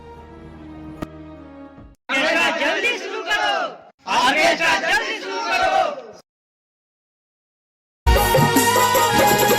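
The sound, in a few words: village crowd making noise for the orchestra to start, stage play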